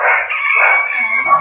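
A rooster gives a single loud, close crow, one drawn-out call filling the whole brief moment, with no talk over it.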